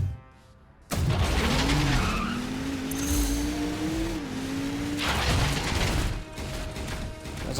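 A car drives and skids in the Transformers: Revenge of the Fallen video game: a loud engine rush, then a long rising and falling tire squeal, then more engine noise.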